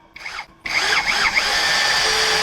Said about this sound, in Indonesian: Di 6 mili ukuran mata bor besinya, saya mulai dari speed 2 dulu